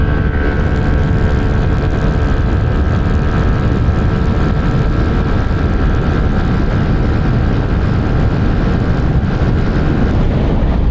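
Motorcycle engine with a new pulley held at full throttle, a loud, steady droning roar with constant pitch and heavy wind buffeting throughout.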